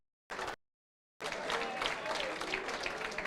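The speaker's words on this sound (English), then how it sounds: "A good clap for them." Conference audience clapping together after being asked to applaud, a brief burst, a pause of silence, then sustained dense applause from many hands in a room.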